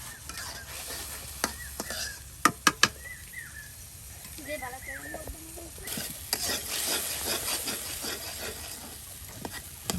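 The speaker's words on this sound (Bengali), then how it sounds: "আরো ভালো করে মশলাটাকে কষানো হবে" Spice masala being stirred and fried in a pan, repeated scraping and clicking of a utensil over a low sizzle, with a few sharp knocks and faint voices in the background.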